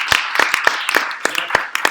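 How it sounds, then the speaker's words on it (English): Brief round of applause for a newly arrived engineer at a tech meetup: a handful of sharp, separate claps from a small group, fairly close and irregular, thinning out within two seconds. "I want to give a little round of applause for Alex"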